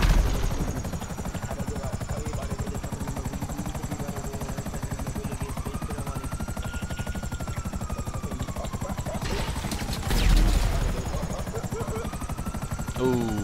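Helicopter in GTA 5 Online: a loud, steady rotor drone and whine that runs the whole time and swells briefly near the end.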